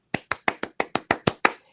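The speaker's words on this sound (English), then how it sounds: "give myself a hand of applause" A single person claps in self-applause, nine crisp, evenly spaced claps in quick succession, close and clear, with no talking.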